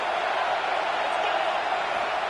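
Football stadium crowd roaring in a steady, dense wash of noise that holds at full volume throughout, loud and enveloping with no clear individual voices.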